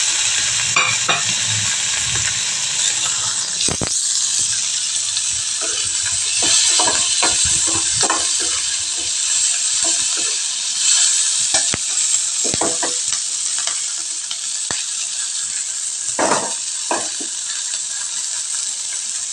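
Tomatoes frying and being stirred in a home kitchen pan, with a steady loud sizzle and hiss throughout, broken by scraping and clinking stir strokes.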